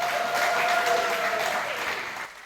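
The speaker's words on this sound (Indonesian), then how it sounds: "Kasih aplaus buat beliau." An audience at a Hindu youth leadership camp applauds steadily for a couple of seconds in a dense, close wash of clapping that tapers off abruptly at the end.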